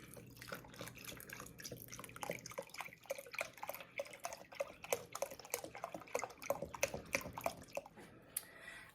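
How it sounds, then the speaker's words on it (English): Chicken stock pours into a cooking pot in a kitchen, making a steady splashing, trickling run of liquid with irregular drips and patters, close by. "I'm gonna pour in my chicken stock."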